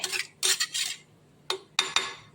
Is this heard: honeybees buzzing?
no